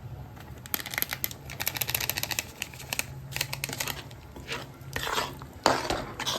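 Paneer masala with onion and garlic is stirred in a pan with a metal spoon: rapid clinking and scraping strokes come close and fairly quiet in irregular bursts, with no voice over them.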